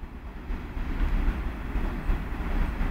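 Class 66 diesel locomotive 66007 hauls a train of coal hoppers through Lincoln Central, a loud, steady low rumble with rolling wagon noise that holds for the whole stretch.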